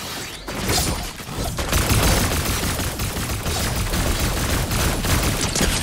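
Dense, continuous gunfire in Fortnite, a powered pulse rifle against a katana, rattles loudly and without pause, a chaotic volley of shots and impacts filling the whole stretch.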